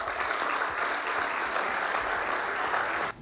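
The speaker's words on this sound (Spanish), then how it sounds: "Así que también un aplauso para ellos." A political event crowd applauds steadily with dense, sustained clapping that cuts off abruptly near the end.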